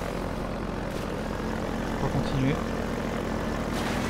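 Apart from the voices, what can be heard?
helicopter in video game Half-Life 2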